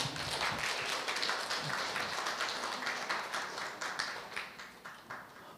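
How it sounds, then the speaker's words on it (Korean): Applause from a seminar audience at Sejong fills the room as a continuous, fairly soft wash of many hands clapping, tapering slightly toward the end. "다시 한번 큰 박수 부탁드리겠습니다"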